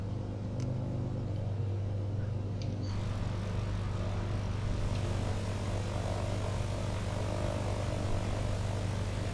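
Cirrus SR-22 single-engine propeller plane in Flight Simulator 2020 held at about 1000 RPM, a steady low droning engine rumble that stays constant and close throughout, with no talk.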